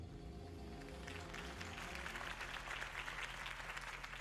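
A video game crowd claps and cheers over a low steady tone, the applause swelling into a dense, moderately distant roar.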